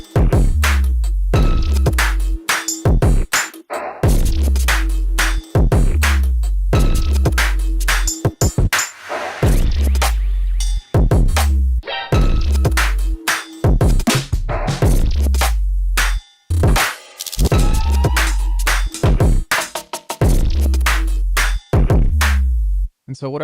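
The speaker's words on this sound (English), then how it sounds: "So I started this track earlier this morning, and it sounds like this." A loud electronic music track built in the Bitwig sampler pounds out a repeating rhythmic pattern of punchy low hits and pitched stabs over a sustained drone, dense and continuous.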